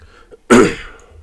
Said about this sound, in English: I know I need to cough to the side.